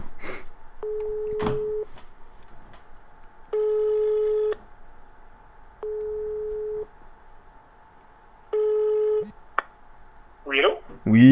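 A French telephone line ringing out during a prank call: four long steady ring tones at even intervals, clear and close, with a few brief voice fragments around them.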